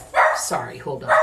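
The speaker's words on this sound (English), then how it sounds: "pardon my dog" A dog barks in a few sharp, close bursts, with a person speaking over and between the barks.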